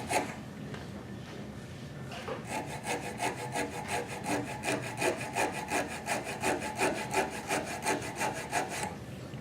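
A file rasps wood while a spiral goblet is shaped on a lathe: steady, rhythmic back-and-forth strokes close by, building into even pulses, with no talk.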